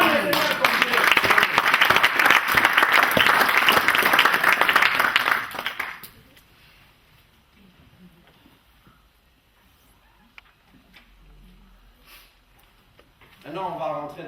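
A church congregation bursts into loud applause and clapping for about six seconds, dense and sustained, then drops off abruptly to near silence with faint room noise before a voice returns at the end.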